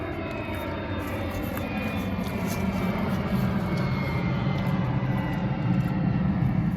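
An airplane flies overhead with a steady, broad engine roar that holds at even loudness throughout, with no talking over it.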